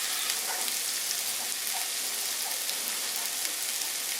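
Chopped onion sizzling loudly in a frying pan, a dense, steady hiss with faint crackles, close and continuous throughout.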